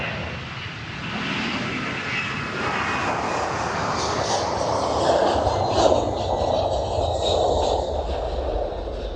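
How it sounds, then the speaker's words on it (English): A United Airlines jet passes at Amsterdam Schiphol airport, a steady, broad engine roar that swells slightly toward the middle, heard from a spotting position with no talk. "A United flight."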